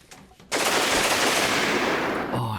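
A loud, continuous burst of rapid automatic fire from an MG34 machine gun in the video game Rimworld, starting abruptly after a brief quiet moment and sustaining at full volume until it cuts off at the end.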